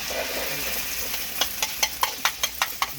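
Food sizzles steadily in a pan over high heat while a utensil scrapes and stirs in quick, regular strokes near the microphone.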